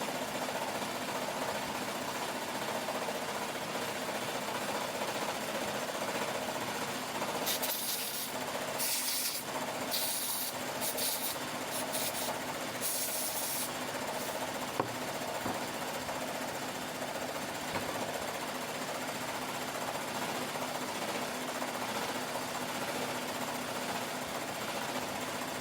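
Sewing machine running continuously on a custom hat, a dense steady mechanical whir at moderate distance with a short stretch of faster, brighter rattling partway through.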